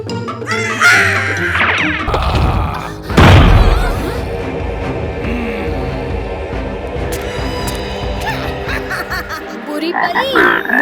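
Cartoon frogs croak and caw loudly in bursts, joined by a booming crash partway through and a continuous musical score underneath.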